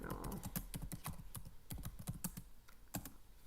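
A computer keyboard clacks as a title is typed in, a quick run of close, light keystrokes in uneven bursts with a brief pause near the end and no voices.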